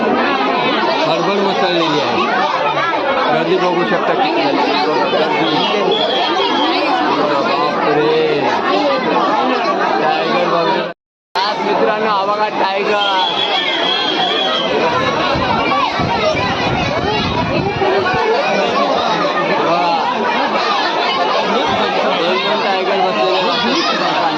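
Dense crowd chatter at Rani Baugh zoo, many overlapping voices and children's calls forming a loud continuous babble, broken by one brief dropout midway.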